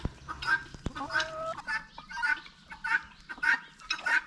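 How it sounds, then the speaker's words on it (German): A large turkey gobbles and clucks close by on a hiking trail, in a run of short repeated calls with brief gaps between them. "Oh, kommt sogar eine große Pute."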